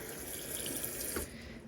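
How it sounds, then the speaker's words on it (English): Warm tap water runs steadily into a plastic cup close by, a bright splashing hiss that briefly changes as the cup fills. "filling it up with warm water"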